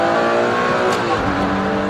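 A Ferrari Enzo's engine roars loud and close, accelerating hard with a steady high-revving drone that shifts in pitch as gears change quickly.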